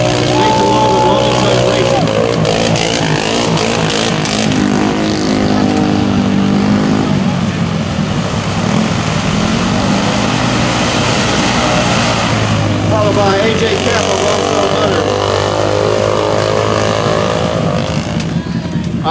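Youth open class racing vehicles roar continuously and loudly toward the finish line at a river run race, with engine pitch rising and falling as they pass.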